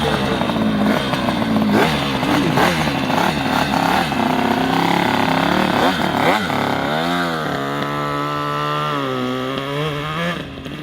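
A motorcycle revs hard and roars past close by, engine pitch sweeping up and down with a loud, continuous drone that eases slightly as it moves away.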